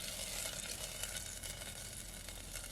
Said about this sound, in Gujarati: આપણે ટમેટું ને કોથમરીને એવું નાખી દઈએ